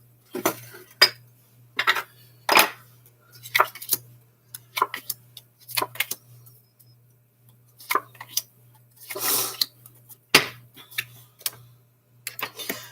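Dishes, pans and cutlery clink and clatter while stuffed chicken breasts are cooked for dinner, a series of sharp, separate knocks and rattles at irregular intervals, fairly close, over a steady low hum and with no talking.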